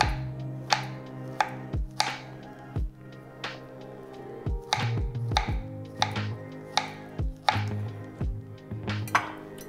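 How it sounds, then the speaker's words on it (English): A knife slices through bananas on a cutting board in a steady series of sharp, close taps, each cut ending with a crisp knock against the board, with brief pauses between strokes. "I might need to slice another half a banana"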